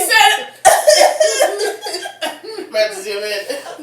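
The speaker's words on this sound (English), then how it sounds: "That was a classy cough, though, I will say." A single sharp cough bursts out near the start, followed by laughter and chuckling from nearby people as talk carries on over the rest.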